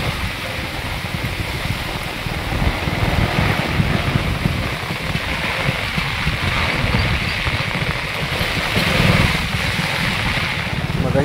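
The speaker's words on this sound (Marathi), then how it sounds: "खतरनाक पाऊस." Heavy monsoon rain pours along the Konkan coast in a dense, continuous roar, loud and close throughout, with gusts of wind mixed in.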